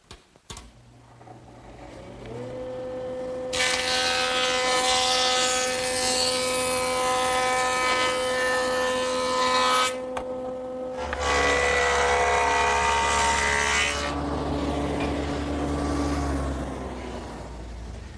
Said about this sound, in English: Now I'll just joint both edges nice and smooth.